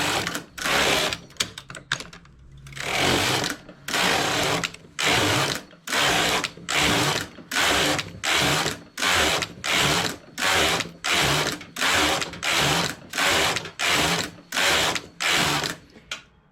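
A domestic knitting machine works a two-color sleeve in wool yarn, its carriage sliding back and forth in a long, regular series of rattling, clicking passes, each about half a second long, close and steady.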